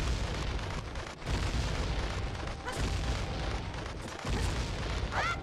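Explosions of exploding cuccos in a Zelda Ocarina of Time randomizer game, with a steady dense rumble of booms and blasts filling the whole stretch and a brief rising chirp near the end.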